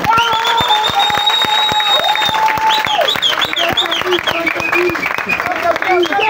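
Crowd applause and cheering at a political referendum rally in Gabon, dense clapping with shouts and whistles rising as a voice carries on over the noise.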